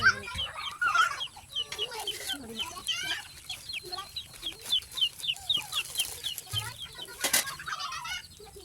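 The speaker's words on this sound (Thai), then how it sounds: "เสียงเป็ดเสียงไก่" Chickens cluck and chatter continuously nearby in a rural setting, with busy overlapping short calls and occasional louder squawks and a few sharper bird cries throughout.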